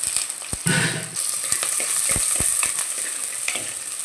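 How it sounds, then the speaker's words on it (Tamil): Shallots, curry leaves and garlic sauté in hot oil for a village-style crab curry, a steady close sizzle with a brief louder burst early on and intermittent scraping stirs throughout. "வெங்காயமும் பூண்டும் அந்த எண்ணெயில் கொஞ்சம் வதங்கி வரட்டும்"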